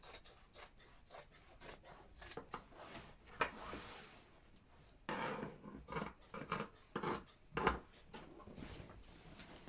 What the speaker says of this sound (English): we are going to cut according to this curve